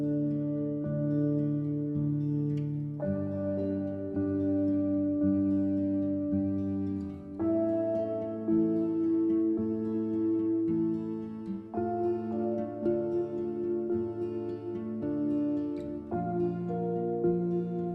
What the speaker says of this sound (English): the main menu music that opens the game to a backdrop of Seattle when everything is normal and calm